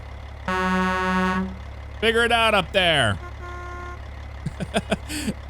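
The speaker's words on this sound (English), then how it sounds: "Everybody's honking at this guy. Listen to that." Several car horns honk in a trucking game, from a long steady blast to a pair of bending, wavering honks and then a flurry of short taps, all against a low engine drone with brief talk over it.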